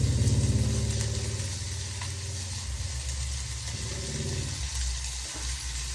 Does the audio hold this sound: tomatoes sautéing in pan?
yes